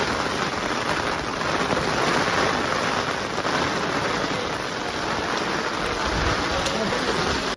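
Rain pours steadily at Manjarabad fort in Hassan district, Karnataka, a dense, even hiss of drops on surrounding greenery that stays loud and close throughout.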